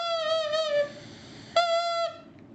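A flattened, cut drinking straw squeezed between the teeth makes two reedy, high squealing honks. The first is longer and wavering, the second shorter after a pause, close and fairly quiet.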